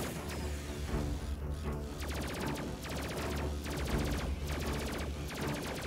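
Rapid bursts of spaceship weapon fire in the video game Space Crew, dense and loud, with repeated volleys clattering continuously over a steady low engine hum throughout.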